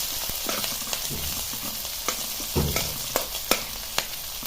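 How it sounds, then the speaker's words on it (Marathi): Garlic and green chillies fry in oil in a pan for a tempering, giving a steady, close sizzle with a few sharp spoon clicks against the metal. "लसणाचा आणि मिरचीचा कलर चेंज झाला की आपली फोडणी तयार झाली"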